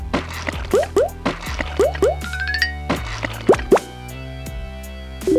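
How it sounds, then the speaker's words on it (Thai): Rose tea is squeezed and strained from soaked tea leaves, giving wet squelches and drips with short rising plops in irregular bursts, close and fairly loud, ending in a quieter trickle. "เสร็จแล้วก็บีบน้ำชาออกมาเลยครับ"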